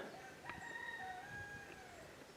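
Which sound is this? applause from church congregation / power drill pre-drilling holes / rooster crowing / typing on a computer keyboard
rooster crowing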